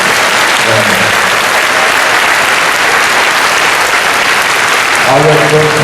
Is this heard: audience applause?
yes